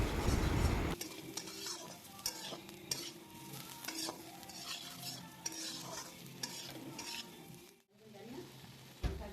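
Spiced Malabar spinach fries in a pan for dal while a spoon stirs it, giving a steady close sizzle with repeated scraping and clinking of metal against the pan.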